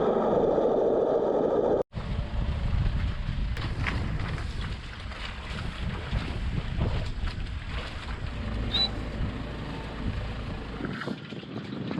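A sailboat's motor runs steadily as the boat motors out from anchor, a continuous low engine drone mixed with strong wind buffeting on the microphone and water noise, after a brief dropout near the start.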